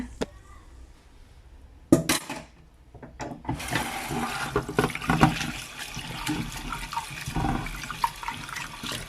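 Glass noodles rinsed in a second change of water for a keto noodle salad, with splashing, trickling water and handling noises running steadily after a couple of sharp knocks near the start, close and moderately loud.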